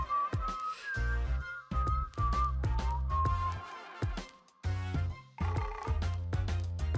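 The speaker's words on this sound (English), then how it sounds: "A sharp whistle rings out across the water." A whistled tune by a pool in the video game Heartbound, a clear wavering melodic line carried over a pulsing rhythmic music track.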